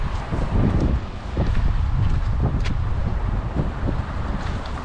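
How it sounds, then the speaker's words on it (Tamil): Strong wind blasts during heavy snowfall in bitter minus-ten-degree cold, roaring and buffeting the microphone in loud, uneven gusts throughout. "இப்போ வந்து காற்று அப்படியே பயங்கரமாக அடிச்சிட்டு இருக்கு"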